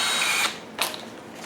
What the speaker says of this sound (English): We're going to drill a 9/64 drill hole right through here